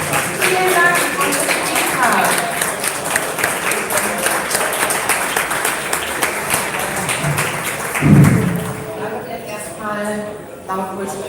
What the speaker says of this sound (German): Einen warmen Applaus bitte für unsere wunderbaren Judges